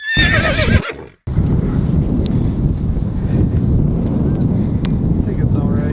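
Wind buffets a microphone outdoors in light drizzle, a loud, steady rumbling roar that runs almost the whole time after a short, high, cry-like sound and a brief drop-out at the start.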